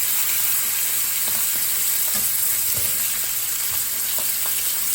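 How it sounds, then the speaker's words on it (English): Butter melts in a skillet over medium-low heat for spinach-stuffed salmon, producing a loud, continuous sizzle and hiss with faint scattered crackles and no talking. "just get that butter nice and melted around it"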